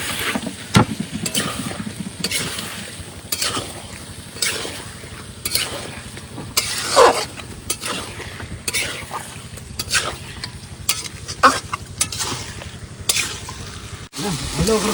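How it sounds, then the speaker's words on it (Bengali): Meat goes into sizzling fried spices in a pot and is stirred, giving a steady frying hiss with repeated scraping and clattering strokes close by, under intermittent talk. "আমার সমস্ত মশলা সুন্দর করে ফ্রাই করে নিয়েছি, এবার দেবো মাংসটা ঢেলে।"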